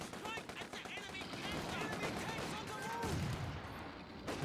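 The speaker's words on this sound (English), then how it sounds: "Someone's shooting us!" Bursts of rapid gunfire and scattered shots crackle in a Company of Heroes 2 battle, with machine-gun rattles and distant reports mixed with faint in-game voices.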